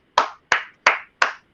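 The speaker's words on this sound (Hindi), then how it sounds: "सो मैं ताली बजा रहा हूं" A teacher claps by hand in a class, giving five sharp, close claps evenly spaced about a third of a second apart, each fading quickly into silence.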